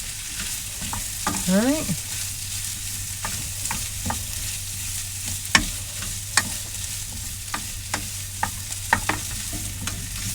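Corned beef hash being mixed together in a pan, a low steady sizzle under repeated scraping and knocking of a utensil, with sharp clacks toward the end and a brief spoken word early on.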